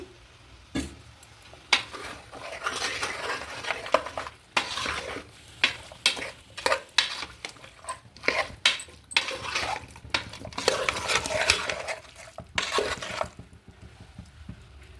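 Mixed vegetables such as radish, potato, drumstick and brinjal are sautéed in oil for a village-style mutton curry, a low sizzle under irregular spoon scrapes and metal knocks on the pan, nearby and unvoiced.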